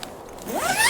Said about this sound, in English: And these zippers are really heavy duty, great zippers.